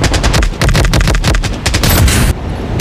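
Rapid automatic gunfire in the mobile shooter Blood Strike: dense, loud bursts of shots rattling almost continuously for about three seconds, ending abruptly.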